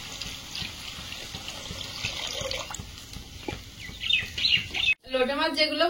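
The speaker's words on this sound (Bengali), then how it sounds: "এবার জল দিয়ে দেবো।" Water is poured into a pan of spiced sour-yogurt gravy, making a soft, fairly quiet splashing and bubbling. A brief voice-like sound comes in at the end.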